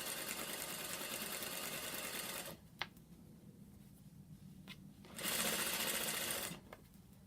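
Sewing machine stitching cotton fabric for welt cord, running in two steady bursts of fast whirring stitches, separated by a quiet pause with a few small clicks.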